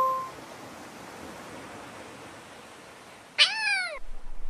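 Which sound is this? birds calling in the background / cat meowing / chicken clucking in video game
cat meowing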